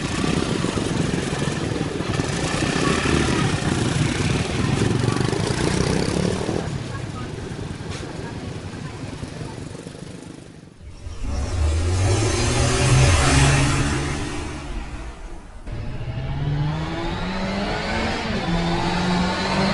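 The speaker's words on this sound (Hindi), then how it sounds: "गुल्ली ने भी जीप स्टार्ट की और जेसन के अड्डे की ओर जाने लगा" A jeep engine starts, rumbles and revs, rising and falling as it drives off, with a brief lull midway before the engine surges again.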